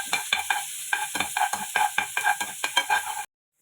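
Garlic sautéing in a hot pan, a steady close sizzle with a rhythmic series of stirring scrapes that ends abruptly.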